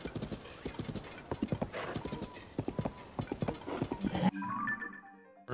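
Horse hooves clip-clop in a steady rapid gait in the video game Legend of Zelda: Tears of the Kingdom, close and clear, ending with a short neigh.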